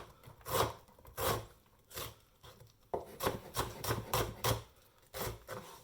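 A knife chops through a large onion on a cutting board, about a dozen close, crisp strokes in an uneven rhythm with short pauses between, no talk.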